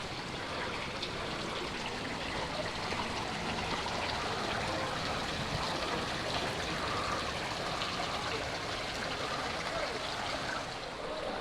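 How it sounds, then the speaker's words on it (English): Steady broadband splashing and trickling of water from a garden fountain at Bom Jesus do Monte, northern Portugal, running continuously, close by, with no voices over it. "I love the sound of running water."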